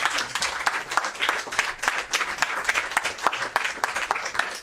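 An audience applauds the speaker Kalouz after a talk: a dense, steady patter of many hands clapping at once, fairly loud and close, without pause from start to finish.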